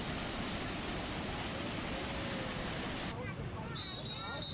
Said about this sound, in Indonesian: Rabu sore, Sungai Tukat Unda Klungkung kembali diterjang lahar dingin setelah hujan mengguyur selama beberapa jam.